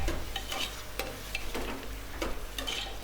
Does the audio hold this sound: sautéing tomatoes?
yes